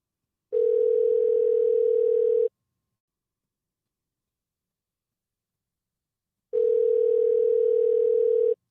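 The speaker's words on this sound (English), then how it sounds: "It's funny how none of these places answer the phone." A telephone rings out unanswered through a handset line: two long, steady electronic rings separated by several seconds of silence, clear and alone.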